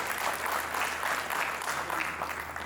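An audience applauding at a stage drama event about India's Iron Man, a steady dense clapping that holds at even loudness throughout, with some faint voices underneath.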